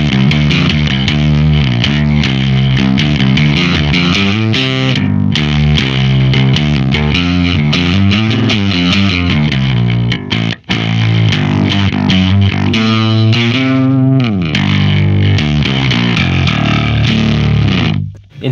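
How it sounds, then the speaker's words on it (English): Electric guitar through a Whimsy Machines Short Stack pedal in half stack mode with bass, gain and level cranked, playing loud, dense distorted chords and riffs almost without pause. "In half stack mode with the bass, the gain, and the level sound cranked up."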